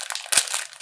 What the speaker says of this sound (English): Can you tear that, or do you need help?